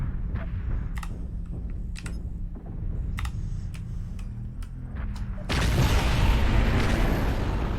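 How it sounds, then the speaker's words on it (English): A sudden loud artillery strike booms in the MechWarrior Online video game, a heavy broad explosion rumble erupting after a stretch of clicking and steady mech engine hum, then sustained thunder. "Artillery strike."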